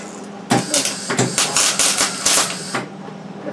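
Arc welding on a home-made dumper truck: a loud, crackling buzz starts abruptly and runs in bursts for about two seconds, then cuts out, with a faint background hum before and after.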